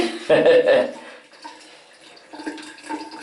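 Water splashes from a shower while a Shiba Inu puppy is rinsed, with a loud burst of spray at first and then quieter running and dripping, and a brief voice or whimper in between.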